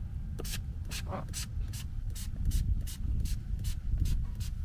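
Rapid repeated bursts of Lanoguard rust protectant spray hiss one after another at an even pace on a Jaguar XJ40, close by, over a low rumbling background.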